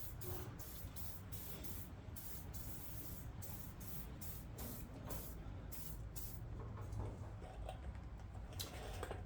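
WD-40 sprays onto a rusting motorcycle chain on a Raptor 90 in short repeated hissing bursts, a close, steady run of spray pulses with brief gaps between them.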